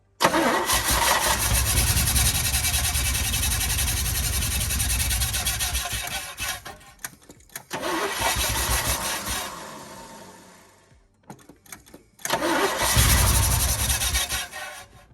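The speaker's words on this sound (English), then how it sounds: "we got it to run, but it's still running really poorly" A 1972 Chevy short box 4x4 pickup engine, cranked after sitting 20 years, catches and runs roughly and loudly, sags and stalls around the middle, then restarts with a surge near the end, close by.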